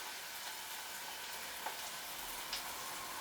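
Onions fry in melted butter in a home kitchen pan, a steady even sizzle with a couple of faint clicks, close and continuous with no talk.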